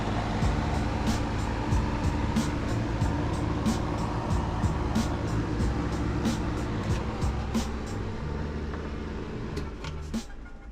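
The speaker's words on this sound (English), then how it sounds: "Sorry about the air conditioning noise" Steady broadband hum of the air conditioning running inside a dirty auction car, a constant near whoosh filling the cabin with faint clicks and small knocks over it.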